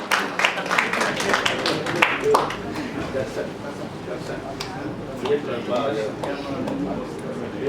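Scattered applause from a press meet audience for the film crew of the Tamil film Saithan Cycle-la Varuthu, with sharper claps early that fade into a steady crowd murmur and talk.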